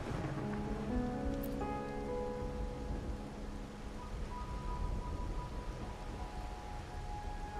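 Steady rain falls throughout a rainy night scene in the video game Wuthering Waves, a constant wash of droplets with a few soft tonal game sounds layered over it.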